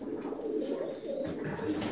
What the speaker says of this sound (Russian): Вот один голубь племенной.